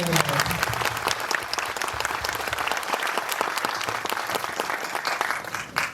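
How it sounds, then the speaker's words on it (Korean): Audience applause during a post-screening talk for the film "The Wedding Banquet" at the Busan International Film Festival, a dense, loud burst of clapping from a packed hall that continues strongly from start to finish. "한번 박수 한 번 드릴까요?"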